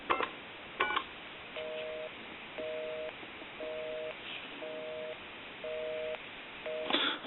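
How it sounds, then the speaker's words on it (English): A wooden decorative wall telephone, after repair, gives a brief burst of dialing noise, then six evenly spaced busy-signal beeps over a faint hiss before another noisy burst at the end. "I'll dial my number, and it will be busy."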